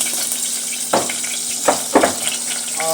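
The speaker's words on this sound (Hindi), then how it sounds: "तो इसमें डाल देंगे थोड़ी अजवाइन" Carom seeds (ajwain) hit a hot pan in a home kitchen, giving a steady sizzle with a few short crackling bursts over about three seconds, no talking.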